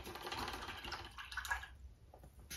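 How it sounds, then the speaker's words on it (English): An acrylic paintbrush is rinsed in a water cup, giving quiet swishing splashes and trickles for about a second and a half, then a few faint drips. "now I'm going to rinse my brush out"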